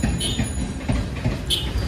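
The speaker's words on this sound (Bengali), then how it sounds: "ওই তো ট্রেন। দেখার পারবো না। বেরিয়ে গেছে," A train rolls past under hot sun, a steady close rumble of wheels on rail with brief higher squeals, no talking over it.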